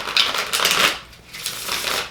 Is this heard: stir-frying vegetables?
no